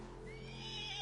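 Horse in the video game Red Dead Redemption 2 letting out a close, loud whinny, rising and shaking over steady game ambience, with a hint of hoof clopping.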